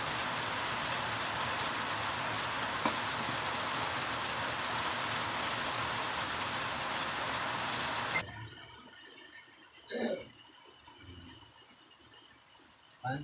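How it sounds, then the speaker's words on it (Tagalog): Heavy rain pours in a steady, loud hiss for several seconds, then cuts off abruptly, leaving quiet room sounds and a few soft knocks. "Ang lakas ng ulan, grabe."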